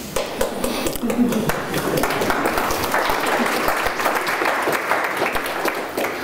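Sustained applause from a sizable conference audience after a talk, dense and steady throughout, with many hands clapping at once.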